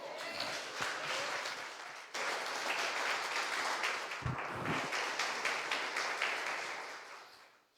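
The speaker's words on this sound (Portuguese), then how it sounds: "Se coloque de pé aplaudindo ao Senhor" A church congregation standing and applauding during a sermon, a soft, sustained wash of clapping from a crowd with a brief break and a few low thumps midway.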